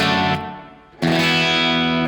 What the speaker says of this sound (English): if you go to the 70s one, it's more like what a studio reverb would kind of sound like